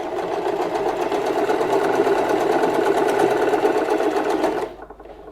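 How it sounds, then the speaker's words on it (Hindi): A sewing machine stitches through folded cloth in a fast, even mechanical whir that runs loud and close for about four and a half seconds, then stops abruptly. "और दोनों को हम सिल देंगे।"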